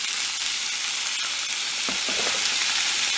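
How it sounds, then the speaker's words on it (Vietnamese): Shell-on shrimp fry with golden shallots in cashew oil in a pot, a close, continuous hiss and sizzle with a few brief scraping stirs near the end. "Khi mà hành tím của mình nó vàng thơm rồi mình cho tôm vào."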